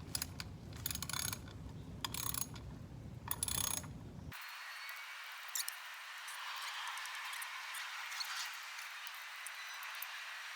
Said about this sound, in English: Now we're going to take the cover off with the with a 5/16 socket